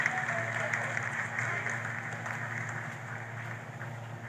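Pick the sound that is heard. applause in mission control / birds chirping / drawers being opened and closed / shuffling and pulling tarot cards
applause in mission control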